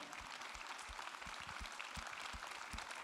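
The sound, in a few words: audience applauding young talents in a hall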